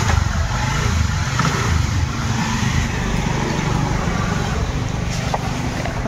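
A motorcycle engine runs close by, a loud steady rumbling idle with a dense low throb and broadband noise throughout, no speech.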